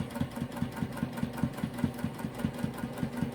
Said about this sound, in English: we're going to put a 1/4-inch seam on this and go right down through here and just sew it